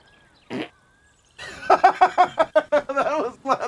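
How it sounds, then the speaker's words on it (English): A short, low, buzzy fart bursts out once, close and fairly loud, followed by someone talking over quiet game sounds. "I had a fart, or I had to fart"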